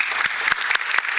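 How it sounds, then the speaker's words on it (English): An audience applauds a speaker at a Detroit panel discussion, with steady, dense clapping and a few sharper claps standing out near the listener throughout. "Every time you speak, you get a round of applause."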